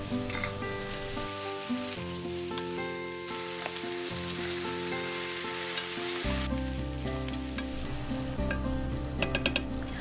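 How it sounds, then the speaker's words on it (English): Pork belly slices frying in a pan, with a steady broadband sizzle throughout and occasional stirring clatter and sharp pops toward the end. The sizzle sounds fairly close and continuous, with no talking. "Now let's fry those pork belly slices."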